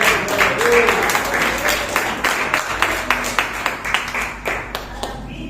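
A church congregation applauds at an evening service, with scattered individual claps blending into steady clapping that thins toward the end while voices murmur underneath.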